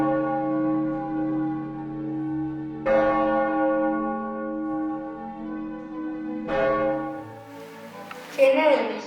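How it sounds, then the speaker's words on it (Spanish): A church bell tolls in slow, resonant strokes, each one ringing out with a long humming decay. A burst of other noise comes at the very end. "Cuando tocaron las 12 campanadas"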